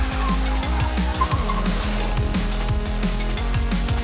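Tires on a VW Scirocco fitted with sport rubber squeal and skid as the car spins donuts, mixed with loud, close engine revving that rises and falls in repeated surges without a break.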